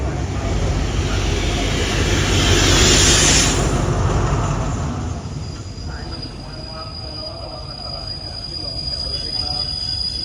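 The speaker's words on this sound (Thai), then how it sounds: "ตอนนี้กำลังจอดสถานีบ้านโป่งนะครับ" Thai train number 251 pulls into Ban Pong station with a loud, continuous rumble of wheels and cars, a high squeal building and fading, then the sound easing as it slows.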